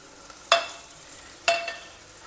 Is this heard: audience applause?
no